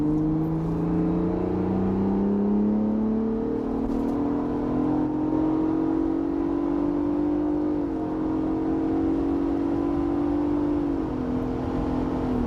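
A car engine revs and holds a rising, droning pitch as it races nearby, loud and steady with gear-like shifts, heard near a gym.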